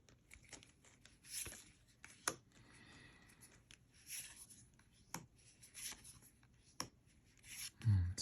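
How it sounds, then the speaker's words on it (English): Magic: The Gathering trading cards being sorted by hand, quiet close-up shuffling, sliding and rubbing of card stock with occasional soft taps and flicks, faint and intimate in a calm setting. "Just sorting some lovely Magic cards."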